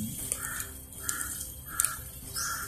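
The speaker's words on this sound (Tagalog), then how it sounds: "Grabe yung mga uwak." Several crows give repeated harsh caws in a loose rhythm, four or so calls at moderate distance over a faint outdoor background.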